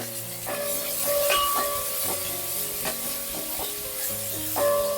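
Shallots sizzle in hot coconut oil with dried red chillies in the pan, a steady close frying hiss broken by a few scrapes and stirring knocks, with no voices.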